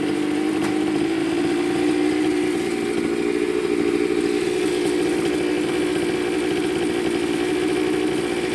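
A 49cc mini dirt bike engine runs at a steady buzzing idle, close and constant throughout with no talk.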